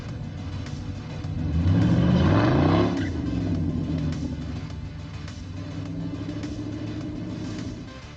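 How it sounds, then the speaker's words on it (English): A 1938 International hot rod dually with a blown 392 Hemi revs hard, a deep rumbling roar that swells for about two seconds, then settles into a loud, lumpy idle rumble nearby with no talking. "This is the 1938 International Hot Rod Dually with a 392 Gemmy wearing a Littlefield 871 blower"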